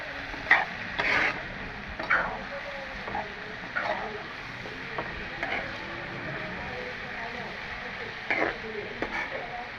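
Soft, steady sizzling of potatoes, onions and small river chanda fish frying in a covered pan, with occasional scraping stirs and light clinks at intervals, fairly quiet throughout.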